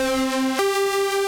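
A bright, buzzy synthesizer tone plays one held note, then jumps to a single lower-sounding new pitch midway; only one note ever sounds at a time.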